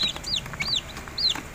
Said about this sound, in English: Lots of chicks here.